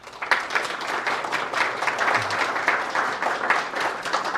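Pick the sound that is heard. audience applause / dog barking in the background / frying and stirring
audience applause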